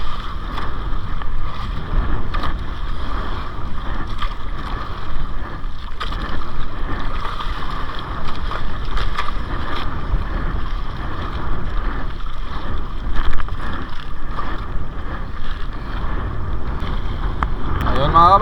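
A boat motor running steadily on open water during a fishing trip with nets, a continuous broad drone with wind and water noise throughout, and a brief voice in the background.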